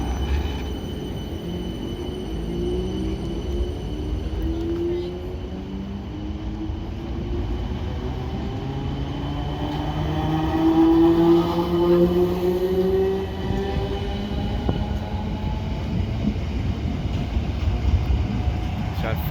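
A South Western Railway train pulls away from Raynes Park station toward London Waterloo, with a long rising motor whine and rumbling wheels that build and then hold steady.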